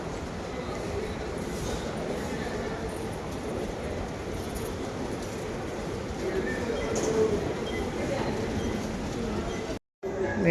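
Rumbling ride aboard a metro train, a steady broadband roar of wheels and carriage noise running throughout at close range, with a brief dropout near the end.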